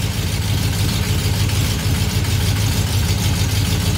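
A cold engine fitted with Fitech fuel injection idles steadily as its rpm slowly settles lower, a continuous low droning rumble with an even pulsing beat and no voices.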